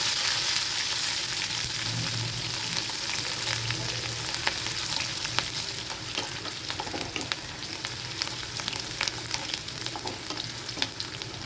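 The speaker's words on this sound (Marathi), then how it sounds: "आता कापून घेतलेला कांदा छान असा लालसर रंग येईपर्यंत भाजून घ्यायचा आहे" Chopped onion fries in oil with cumin and mustard seeds in a kadhai: a loud, continuous sizzle runs throughout, broken by occasional scraping and clicking strokes of a stirring spatula.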